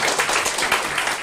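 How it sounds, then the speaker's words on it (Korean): A church congregation applauds at an ordination service at a Presbyterian church, a dense, steady burst of many hands clapping close and fairly loud for about a second. "박수 크게 합시다."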